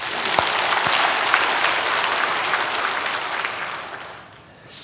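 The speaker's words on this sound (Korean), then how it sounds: "우리 하나님 앞에 박수 한번 보냅시다." A church congregation claps together in a dense, steady round of applause that holds for several seconds, then fades out quickly near the end.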